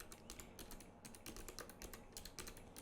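Rapid keystrokes on a computer keyboard, entering a Sims 4 cheat code, in a steady clattering run of close, moderately quiet taps with no talking.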